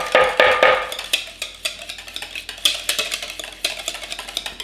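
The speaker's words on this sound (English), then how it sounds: "So we want to mix this until we incorporate the butter." A spoon stirs a corn pudding mixture with butter in a bowl, producing quick repeated scraping and clinking strokes, fairly close and loud at first and then lighter and irregular.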